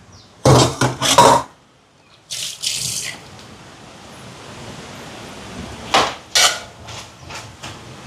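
A lid goes onto a pot of rice cooking for a chicken meal, with a few sharp metallic clanks and clatters in separate bursts and quiet hissing between them.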